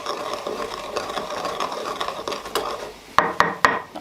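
Coarse grinding in a home kitchen gives a close, scratchy, rasping crunch that ends with three sharp, loud clicks.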